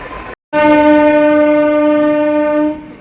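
An ICF MEMU passenger train on the Katwa–Ahmedpur line in light rain sounds a loud, sustained horn blast after a brief gap, holding the tone for about two seconds before cutting off.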